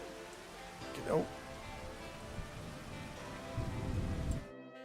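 Rain falls in the video game Farming Simulator 25 as a steady, moderate patter with occasional low rumbles, while a voice speaks briefly over it.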